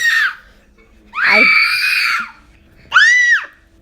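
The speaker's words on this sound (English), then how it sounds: "Why are we screaming?" A young child, about a year and a half old, lets out three loud, shrill screams separated by short pauses, close to the listener, with no talking in between.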